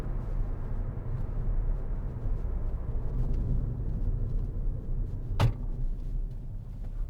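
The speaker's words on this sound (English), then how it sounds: "That was the seat. I'd moved it back and it hadn't quite clicked in place properly." Inside a 2015 Ford Fiesta 1.0 EcoBoost Titanium X five-door, a single sharp click from the seat latching into place stands out against a low, quiet cabin rumble.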